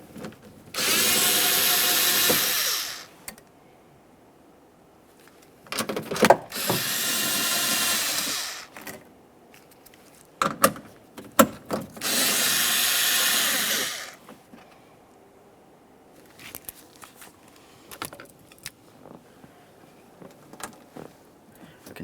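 A power ratchet removes the rear window motor bolts on a 2009-2014 Nissan Maxima, whirring in three loud bursts of about two seconds each, separated by quiet gaps with clicks and rattles of handling.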